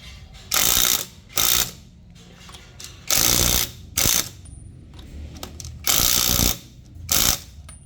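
Bosch GDX 18V-285 cordless impact wrench driving tire lug nuts: loud, close bursts of rapid hammering, with four longer runs of roughly half a second interleaved with short blips, separated by quieter workshop background.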